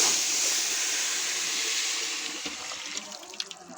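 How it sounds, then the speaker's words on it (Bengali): A steady rush of hot water pours into a pot of rice for chicken biryani, then tapers off with a few splashes and clinks at the end. "এখন আমি পানি দিয়ে দেব"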